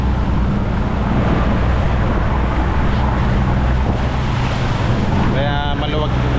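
Fishing boat engine running at sea with freshly changed oil, a continuous loud low drone mixed with wind and water rush, steady throughout.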